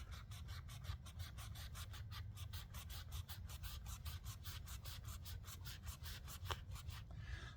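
A Condor Matatoa knife saws back and forth through a doubled-up, sandpaper-like abrasive material. The strokes come steadily at about four per second, close and even, with no talking.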